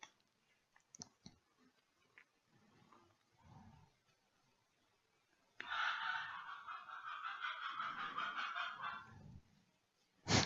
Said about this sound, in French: Je sais pas si vous entendez, il y a le coq qui chante. Le coq chante à midi.